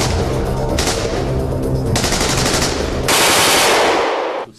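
Hunting carbines firing at a shooting range: loud, rapid shots in quick succession, sharp bursts echoing close by, a brief pause, then more fire that stops abruptly, with no voices.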